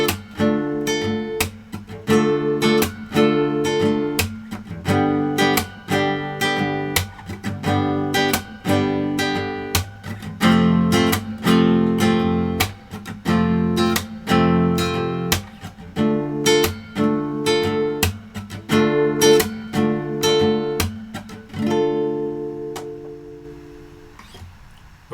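Fingerpicked acoustic guitar accompaniment with a steady, percussive rhythm, bass notes and chords alternating, played alone and clearly up close.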